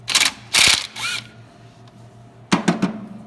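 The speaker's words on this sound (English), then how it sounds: "all we do is take the air filter housing off of the inlet with a 6mm Allen socket." A ratchet with a 6mm Allen socket loosens an air filter housing from an engine inlet, giving short, close bursts of rapid metallic clicking, a quick cluster early on and another after a quiet pause, with no talking.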